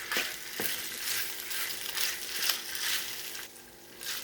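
Olive oil hitting meat frying in a saj pan for saç kavurma, a crackling sizzle that swells and fades in waves, with stirring scrapes and a couple of sharp knocks.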